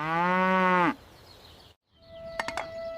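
A dairy cow in an animated telling of Jack and the Beanstalk lets out one loud, close moo lasting under a second, followed by a quiet pause and a few light clicks.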